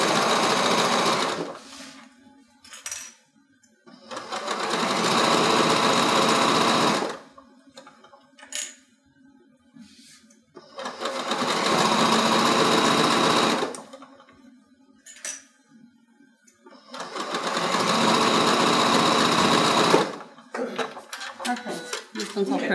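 Sewing machine top stitching a zip bag, running in three long bursts of steady whirring separated by quiet pauses with faint handling clicks, close and fairly loud.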